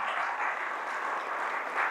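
Congregation in a church service applauds loudly and steadily, a dense, continuous wash of clapping that holds at even strength throughout without any voices over it.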